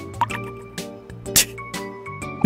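Water drips from a leak in the video game Omori, sounding as a series of distinct plops in an uneven rhythm over a steady, tonal game-music background, with no talking.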